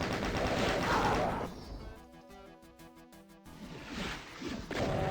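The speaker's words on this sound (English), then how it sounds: "we got lots and lots of chain gun ammo. No harm in using it." A chain gun fires in the video game DOOM, a rapid run of evenly spaced shots in the middle set between louder stretches of crashing and whooshing game noise.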